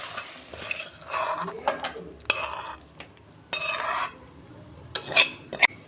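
Cooked taro stolons are tipped out of a pan in bursts of scraping and rustling, with sharp metallic clinks between pours and no speech.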